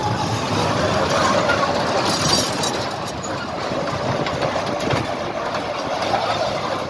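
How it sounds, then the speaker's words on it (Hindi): A children's ride-on train rolls along with a loud, steady engine rumble and a faint rhythmic rattle of its cars, carrying kids throughout. "ज़बरदस्त ट्रेन है।"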